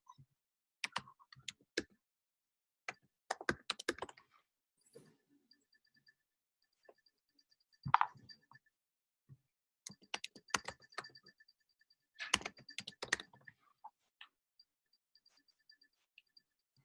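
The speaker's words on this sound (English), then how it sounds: "you guys are typing some more in there" Computer keyboard typing comes in short, quiet bursts of clustered keystrokes separated by stretches of silence, close and sparse, with no voices over it.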